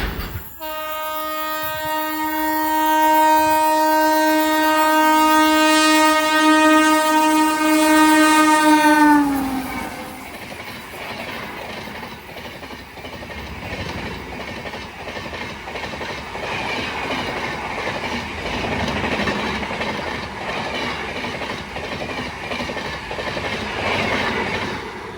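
The 12432 Hazrat Nizamuddin–Thiruvananthapuram Rajdhani Express blares a long, loud, harmonic horn for about nine seconds as it approaches, then roars past with steady wheel and coach rumble and clatter close by.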